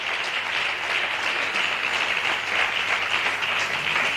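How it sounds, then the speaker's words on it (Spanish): A church congregation breaks into sustained applause during a sermon, dense even clapping from many people filling the room at a steady level without pause. "Denle un aplauso a Dios por esta escritura."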